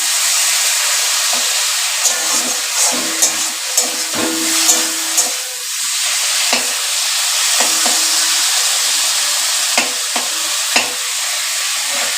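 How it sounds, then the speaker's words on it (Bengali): Rice boils in a pot on a home stove, a steady bubbling hiss with scattered louder pops and clinks running continuously throughout, close and fairly loud, with no talk. "ভাত ফুটে গিয়েছে"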